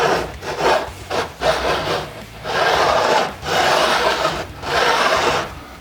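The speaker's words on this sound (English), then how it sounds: "I want to just put a slight bevel on the edge of the frets. So this file, it's already set at an angle." A file beveling the fret ends on a Warmoth Strat neck, loud close rasping strokes in a steady back-and-forth rhythm, about five long passes with short pauses between.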